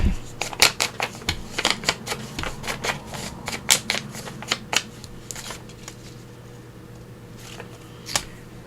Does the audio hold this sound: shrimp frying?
no